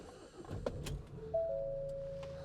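A Ford Transit Custom 2.0 diesel van with a six-speed gearbox starts up close by: a short burst of starter cranking catches into a steady, even idle that carries on to the end.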